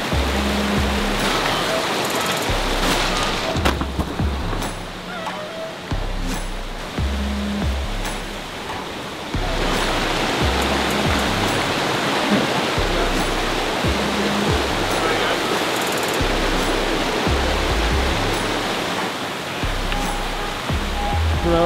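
Steady, broadband rush of a river flowing toward a waterfall fills the whole stretch, loud and close, with low thumps and scattered knocks over the constant wash.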